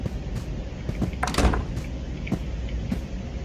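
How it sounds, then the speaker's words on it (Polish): A door swinging shut in the horror video game Devour, heard as a single muffled thud with a brief rattle, standing out over a steady game ambience and scattered faint clicks. "zamknę drzwi"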